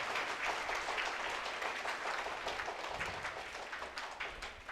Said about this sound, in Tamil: நம்முடைய நன்றியை கைத்தட்டி நாம் தெரிவிப்போம்